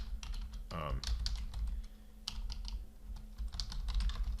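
Close, rapid keyboard typing in irregular bursts of clicks, with a short spoken murmur near the start and a steady low background hum.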